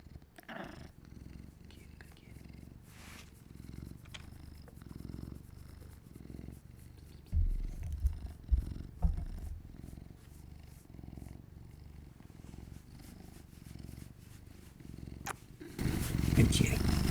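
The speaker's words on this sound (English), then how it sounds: "Good kitty." A cat purring close by, a soft continuous rumble lasting throughout, with someone speaking quietly over it and some handling noise toward the end.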